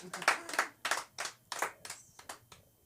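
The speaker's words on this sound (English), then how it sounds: "Round of applause for the Jesuits" A small, sparse round of clapping from a comedy club audience, only a few hands giving about eight distinct claps that taper off quickly, fairly faint.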